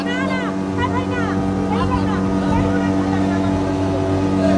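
A motorboat engine drones steadily as the boat crosses water between islands, a constant low hum running under voices talking near the start.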